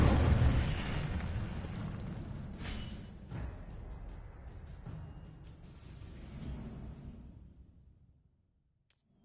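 A fiery blast from the Incendio fire spell in Hogwarts Legacy, a loud burst with a roaring crackle that rumbles and fades over several seconds, followed by a short faint sparkle near the end.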